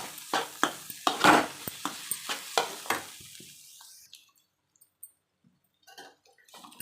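A spoon stirs a potato stir-fry with coconut and chilli in a pan, making a series of rhythmic scraping strokes with a faint sizzle, which fade into near silence and a few soft clicks.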